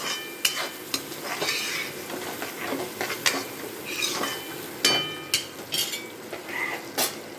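Turmeric is stirred into cauliflower cooking in a pan for a cauliflower, potato and onion curry. A soft, steady sizzle is broken by repeated scraping and clinking strokes of a spoon against the pot.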